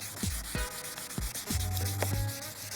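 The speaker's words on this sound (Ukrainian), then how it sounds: "тут вже лак поліз, його треба вишкурити весь" A car headlight is hand sanded with fine sandpaper to strip peeling lacquer, producing rhythmic rubbing strokes, close and steady, with a few scraping sweeps.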